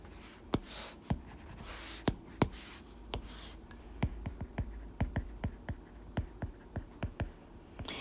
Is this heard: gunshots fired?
no